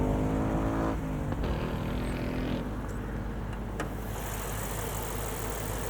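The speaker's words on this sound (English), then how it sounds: "The masterpiece that is this 5-liter V8." Lexus IS 500 with a 5-liter V8 runs steadily, a continuous deep engine drone that stays at an even level with a slight shift in tone partway through, no voices over it.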